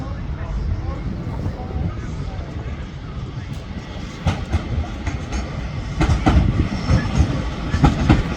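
A Northern class 331 electric train bound for Blackpool stands and moves at a platform in Manchester Piccadilly station, a steady loud rumble of motors and wheels with clicks and clanks growing louder toward the end, a voice talking over it.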